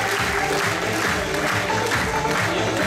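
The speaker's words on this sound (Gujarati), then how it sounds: "તાળીઓથી વધાવી જ લઈએ આપ સૌને." An audience claps steadily and densely at a college annual function and prize distribution in Modasa, filling the hall with sustained applause.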